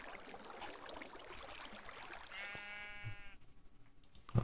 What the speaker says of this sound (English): I think there's a sheep down there somewhere